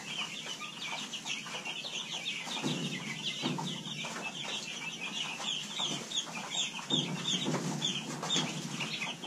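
Young chickens, Cornish cross birds, peep and cluck steadily in a busy brood, with bursts of louder fowl calls rising over a constant high chirping background.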